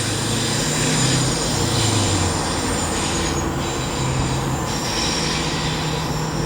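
Class 91 locomotive hauling a train out of Durham station over a viaduct, wheels flange-squealing steadily on the curve, a continuous loud metallic screech over heavy rail rumble, close by and without speech.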